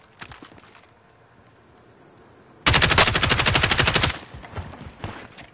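Sentry gun fires in Call of Duty Warzone: a long, loud, rapid automatic burst of close gunshots lasting over a second, preceded and followed by quieter, more distant shooting.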